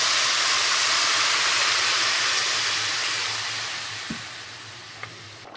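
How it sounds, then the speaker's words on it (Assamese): Water poured onto vegetables frying in a hot pan sets off a loud, broad sizzling hiss of steam that slowly fades, with a couple of small clinks near the end. "এইফালে চব ভাজি হৈ যোৱাৰ পিছত মই এনেকৈ পানী দি দিম"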